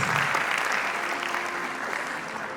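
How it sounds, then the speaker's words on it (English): An audience applauds steadily for a guest speaker at an orientation event for a free digital training program, a dense, continuous clapping that stays loud throughout and fades slightly toward the end, with no speech over it. "Shall we please give him a round of applause?"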